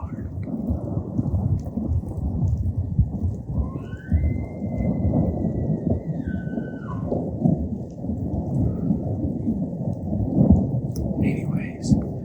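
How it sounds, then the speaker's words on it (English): A hailstorm with thunder outdoors during a hunt: a dense, continuous roar of hail and rain dominates, with a long low rumble of thunder rolling through and a faint whistle-like call briefly above. "hailing so hard"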